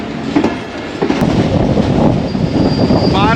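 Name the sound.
Pak Business Express train running through a station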